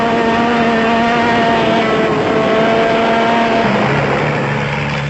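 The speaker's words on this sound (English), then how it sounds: "the Chepex, who had the peaky Porsche motor in full cry as they floated the Class BV Motors Epson Raceco across the sand" A peaky Porsche-engined Raceco off-road race car at full throttle across sand, a loud sustained engine howl with strong harmonics that holds steady, then drops in pitch near the end as it passes.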